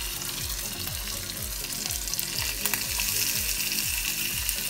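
Chicken pieces, lightly seasoned with salt and black pepper, fry skin-side down in a hot pan, giving a loud, continuous crackling sizzle with fine spitting pops throughout.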